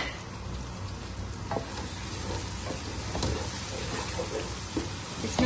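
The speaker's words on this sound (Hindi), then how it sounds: "ये देखें हमारे टमाटरों की जो है भुनाई हो रही है।" Tomatoes with chopped green chillies sizzle steadily and fairly loudly in a pan, with occasional soft stirring taps. The hiss runs continuously from start to end, with no talking.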